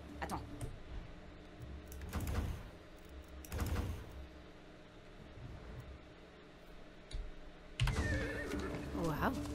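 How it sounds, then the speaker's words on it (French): Two loud horse neighs in the video game Far Cry 6 ring out a couple of seconds apart over a faint steady background, followed by a burst of clattering noise. "Waouh, un cheval magique."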